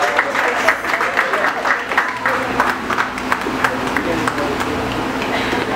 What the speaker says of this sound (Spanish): Un aplauso para ellos dos.